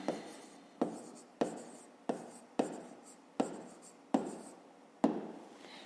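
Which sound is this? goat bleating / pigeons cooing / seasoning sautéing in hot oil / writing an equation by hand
writing an equation by hand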